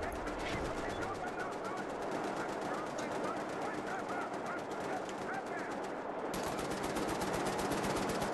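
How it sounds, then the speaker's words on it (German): Sustained rapid fire from a mounted gun in Wolfenstein: The New Order, a steady rattling burst lasting several seconds, briefly thinning before resuming loudly, with faint speech underneath. "Das ist doch noch ein Geschütz."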